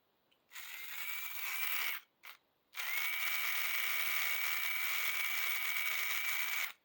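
A Tyco HO slot car with a balanced 6 ohm armature and Porsche 908 body whines at a steady high pitch, cutting out briefly twice before running again, close and alone.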